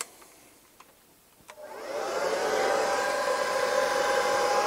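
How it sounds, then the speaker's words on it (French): A hair dryer, used on a Revell 1962 Shelby Cobra 289 scale model kit, switches on after a few faint clicks and blows steadily, a loud continuous whooshing hum that fills the rest of the clip. "Donc on va mettre un petit coup"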